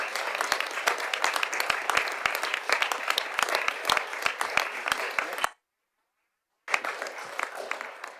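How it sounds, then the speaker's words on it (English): Council members applaud at a city council full meeting, a steady run of clapping with many sharp individual claps that cuts off abruptly, then resumes after a brief silence. "give him a round of applause"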